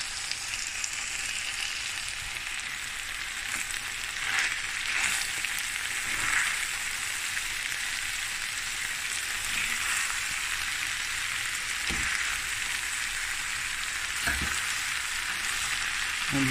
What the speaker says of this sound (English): We have added the rice now and give it a nice quick stir fry